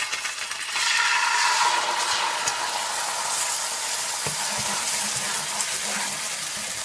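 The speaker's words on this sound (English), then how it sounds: "So I'm gonna add my barbecue sauce to my pot." Barbecue sauce poured into a hot pot for BBQ fried chicken, a steady broadband sizzle and hiss that holds evenly for several seconds with faint clinks near the end.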